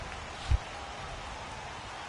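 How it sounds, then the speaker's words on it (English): Rain falls steadily in a PS4 baseball video game, an even hiss with one soft thump near the start. "the rain starting to intensify here. It's coming down a little heavier now"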